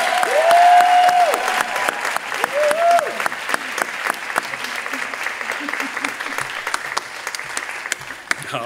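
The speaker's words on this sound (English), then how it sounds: "let's have one more round of applause for Dr. S. Amma Wray." An audience at a dance conference's closing plenary gives a round of applause, a loud sustained patter of many hands, with a voice speaking over the start before the clapping settles into a steady rhythm.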